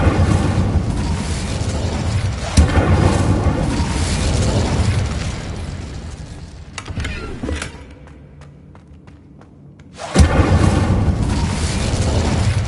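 The Incendio fire spell is cast in Hogwarts Legacy, with loud whooshing, crackling bursts and booms, a quieter lull midway, then another sharp burst and roaring fire.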